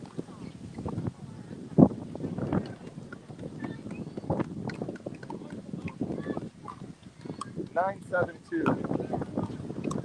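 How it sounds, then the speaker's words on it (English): Gusty wind buffets the microphone outdoors at a pickleball event, a steady low rumble swelling and easing under near, frequent talk from several people. "The wind is back, everybody."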